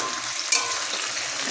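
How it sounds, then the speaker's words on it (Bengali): Onions and potatoes sautéing in a pan, a constant bright sizzle with one brief clink near the start, close and steady with no voices. "পেঁয়াজ আলু কষানো হচ্ছে"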